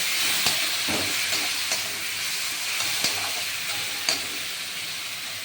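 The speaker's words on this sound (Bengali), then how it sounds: "এই যে দুই মুঠ চাল ভিজিয়ে রেখেছিলাম এইটা দিয়ে দিলাম দিয়ে এটা নাড়াচাড়া করবো" Soaked rice and fish head being stirred in a pan for a traditional Bengali muri ghonto, a steady sizzling hiss under a scattering of soft scraping strokes, close and even throughout.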